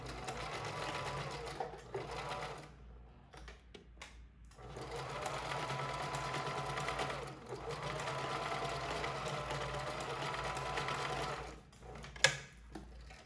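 A sewing machine stitches a fabric face mask in a steady, continuous motorized whir, briefly pausing a few times before running on, with one sharp click near the end.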